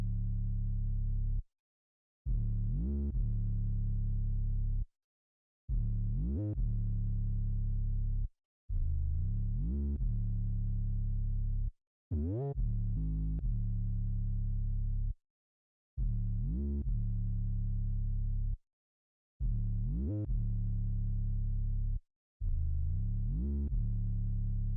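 Compressed synth bass with a shorter release setting on the compressor, playing a repeating pattern of sustained low notes with brief gaps between phrases and small pitch slides, loud and alone with no voices.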